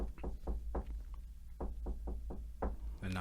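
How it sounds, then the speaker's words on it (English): Knuckles rap on the door of a rented house: a quiet series of about nine knocks in two uneven bursts, sounding close against a hushed room. "The knocking on the door."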